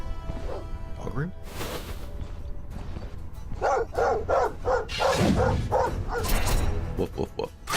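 Dogs bark in the video game Stoneshard, a run of sharp, repeated barks and yips with a whimper, mixed with game effects and someone talking over them.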